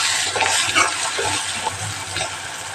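Tomato masala for a chickpea and coriander dish cooking on a low gas flame, a steady, fairly loud sizzle and bubbling hiss with faint stirring sounds throughout.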